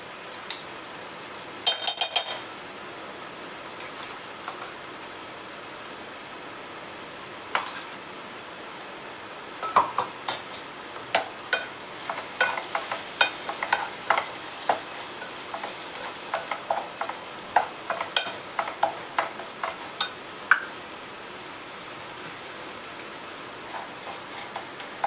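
A ground spice paste of roasted dry coconut, coriander, chili and ginger fries in a pan with a soft, steady sizzle, broken by many sharp crackles and spits of oil, and no talk.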